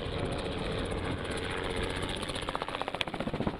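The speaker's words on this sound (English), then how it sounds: "A helicopter overhead," A helicopter passes overhead above a private game reserve in KwaZulu-Natal, its steady rotor drone growing into a distinct rhythmic blade chop as it nears.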